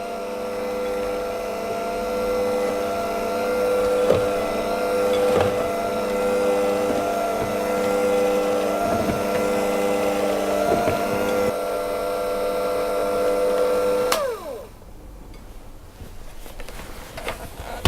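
An electric mixer on slow speed combining plain flour, coconut flour and coconut flakes for biscotti, a steady whirring motor hum with faint rhythmic scraping, then the motor cuts off near the end.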